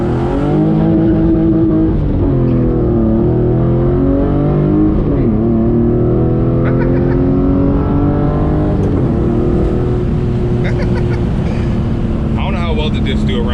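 A BMW E36 sedan with a welded differential drives along, its engine note rising and falling steadily and loudly close by.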